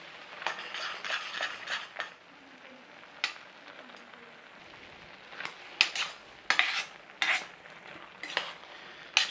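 Spoon clinks and scrapes through apple pie filling in a pan as heaped brown sugar is stirred in, quick irregular taps and scrapes close up over a soft sizzle.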